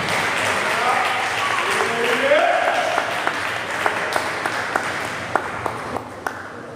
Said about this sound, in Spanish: Dale ese aplauso a Cristo.